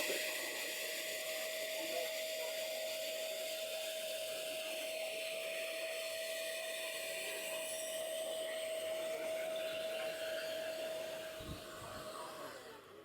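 Milwaukee wet/dry vacuum fitted with an AirTip accessory sucking up wet, salty sand, a steady motor whine and rushing airflow holding evenly throughout at moderate distance, with a brief low thump near the end.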